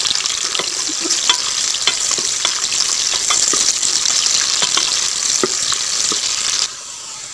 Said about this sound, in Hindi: अब हम प्याज को भून लेंगे।